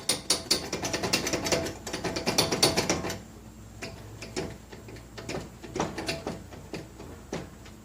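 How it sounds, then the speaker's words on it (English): A ratcheting crimping tool clamps battery cable for a 1975 Vanguard Citicar electric car, giving rapid close mechanical clicks in bursts that thin into sparser clicks. "We're going to crimp this."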